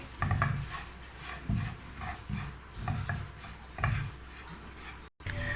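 Spices such as turmeric and dry mango powder sizzle in a pan while a spoon stirs them in repeated scraping strokes, the frying hiss steady underneath.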